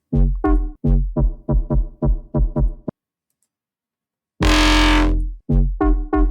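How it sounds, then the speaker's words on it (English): Granular bass loop from a sample pack, playing as a run of short, punchy harmonic stabs in a quick rhythm, then a gap, then a sustained loud smeared burst before the stabs return. "how to make like this granular bass in my remix"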